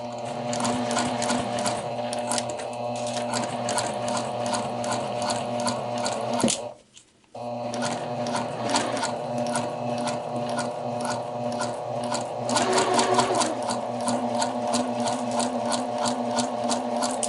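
Sewing machine stitching a seam on an inseam pocket, a steady rapid mechanical chatter running loud and close, with one short pause midway before resuming.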